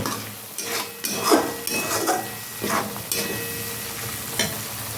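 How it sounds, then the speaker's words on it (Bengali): Chicken pieces and spices being stirred in a pan, with a few scraping, clinking spoon strokes over a low, steady sizzle, close by and moderately loud, with no one talking. "একটু জাস্ট একটু আমি এইভাবে নাড়িয়ে নেব"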